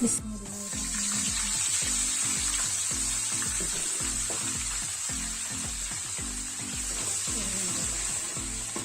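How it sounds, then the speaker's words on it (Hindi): Water poured into frying korma masala for achari aloo gosht in a pan, giving a steady loud sizzle with a faint stirring rhythm underneath, and no talking. "तो इसमें हम लोग थोड़ा सा पानी डालेंगे।"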